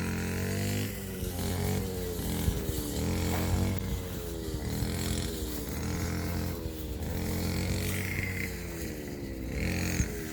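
A grass trimmer cuts grass in a sugarcane field, its steady buzzing engine drone running continuously at close range throughout.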